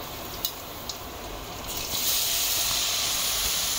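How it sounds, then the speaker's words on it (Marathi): Grated sweet potato drops into a pan of green chillies and begins to sauté, a close hiss and sizzle rising and holding steady after a few light clinks of utensils. "आता याच्यात हा किस घालायचा आहे"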